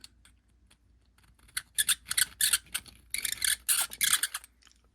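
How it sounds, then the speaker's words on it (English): A deburring tool cuts the inside and outside of a 45 Colt brass case, making close, crisp scraping bursts in quick repeated twists, grouped in two runs with short gaps. "Let's deburr the inside and deburr the outside."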